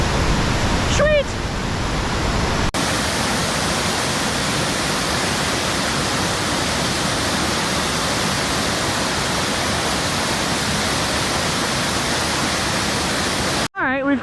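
Loud, steady roar of creek water rushing across a road slab along the Miller River, a broadband wash filling the whole stretch, with a brief whistle-like sweep near the start and a short drop to near silence at the end.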